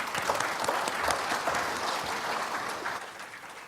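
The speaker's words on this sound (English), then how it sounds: "One more round of applause" Audience applause closing a meeting talk, a steady wash of clapping from a crowd at moderate distance, fading slightly toward the end with no speech.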